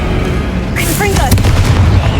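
A Confringo spell explosion in the video game Hogwarts Legacy, a single booming blast with a short whooshing sparkle followed by a rumbling tail.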